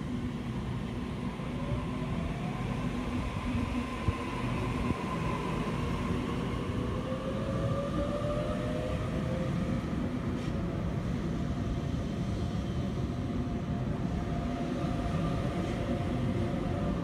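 Sydney Trains set A47 pulls out of platform 2 at Kingsgrove with a steady, loud rolling rumble and rising electric motor whine that climbs in pitch as it gathers speed.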